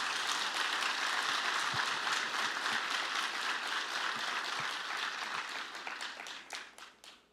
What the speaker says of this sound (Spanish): Démosle otro aplauso al Señor Jesucristo